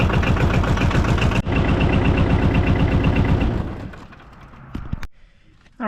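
A 2007 Arctic Cat 700 diesel ATV engine idles after an oil change, a loud, steady rhythmic chugging close by that cuts off with a clunk, then near silence and a few small clicks.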